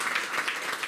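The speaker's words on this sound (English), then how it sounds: "these people deserve a really big round of applause" Brief burst of audience applause at a mayoral announcement about nonprofit funding, a dense, steady patter of many hands clapping with no voices over it.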